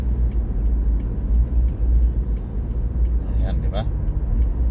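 A car cruises along the highway with a dense, steady low road rumble and tire noise, a brief higher whine rising near the end.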